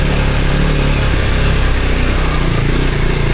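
An off-road motorcycle engine buzzes steadily under light throttle while riding, a dense close-up drone with wind rush that holds even throughout without pauses.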